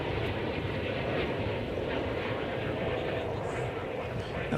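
A steady, broad roar from a jet airliner at Dallas Fort Worth Airport, heard at a distance and continuous throughout, with a faint voice in the background.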